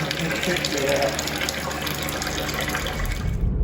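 Water runs steadily from a tap to rinse beer brewing equipment at an orchard, a loud continuous splashing rush that fills the whole moment and cuts off sharply at the end.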